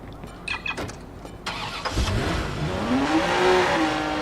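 A car engine starts in the Watch Dogs video game: a cranking catch followed by a rising rev that settles into a steady loud engine drone, preceded by a few short knocks and clicks.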